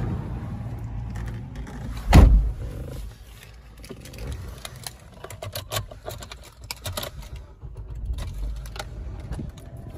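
A Nissan Dualis engine cranks and catches with a loud burst, then settles into a low, steady idle under some interior clicks and rattles.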